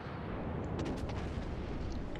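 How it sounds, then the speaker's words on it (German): A battleship in World of Warships, the Imperator Nikolai, fires a full salvo of twelve shells. It comes through as a dense, continuous booming roar that fills the whole stretch with a heavy low rumble. "Da sind alle 12 Granaten auf dem Weg."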